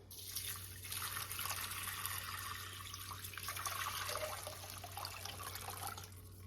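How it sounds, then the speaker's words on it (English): Water pours into a pot for an herbal iron syrup, a continuous splashing stream heard quietly and evenly over a low background hum. "So we need to add our water."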